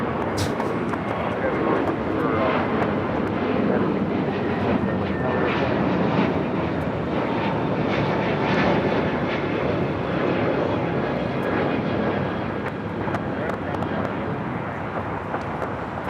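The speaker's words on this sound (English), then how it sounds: "That was JetBlue, flight 1524 heading to JFK. A321 Neo, brand new, just delivered in June." A brand-new JetBlue Airbus A321neo jet takes off at LAX. A broad, steady engine roar holds loud and constant throughout, with a faint voice murmuring underneath.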